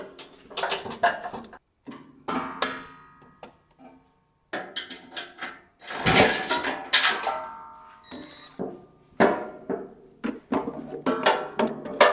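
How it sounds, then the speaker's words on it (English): Bolts are loosened and removed from the rear cover panel of a micro excavator, with irregular metallic clicks, clanks and tool rattles in short bursts separated by pauses, close and fairly loud. "The next step is taking out the bolts that hold this back cover on."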